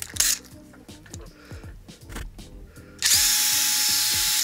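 A DeWalt impact driver turns an inside pipe cutter on 2-inch ABS pipe, first with a rapid run of clicking, hammering pulses, then a loud, steady, close-up whir for the last stretch.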